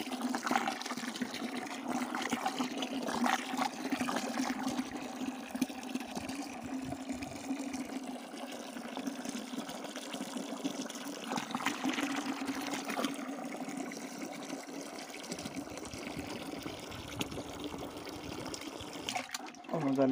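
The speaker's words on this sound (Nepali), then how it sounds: "मैले चलक पानी हालेँ" Water poured into a soaked oil-cake (pina) fertilizer mixture for bitter gourd plants, a steady trickling and splashing pour running continuously at close range with no talk over it.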